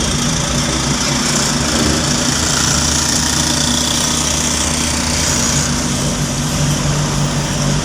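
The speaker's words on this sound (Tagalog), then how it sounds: "Ingay ng makina ng motor. Oo, yung tricycle." Engine of a motorcycle tricycle drones loudly and steadily nearby in city traffic on Katipunan Avenue, a continuous knocking rumble with no talk over it.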